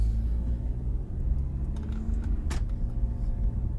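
A car idles and rolls off in low, steady engine rumble heard from inside the cabin, with a few light clicks and one sharp tap partway through and no talk.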